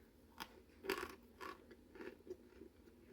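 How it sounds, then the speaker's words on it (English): Someone crunches Baker's Choice chocolate chunks heated in a microwave, a quiet run of short bites and chews, close and crisp with no talk. "A good crunch."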